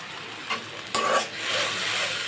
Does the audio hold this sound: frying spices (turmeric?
yes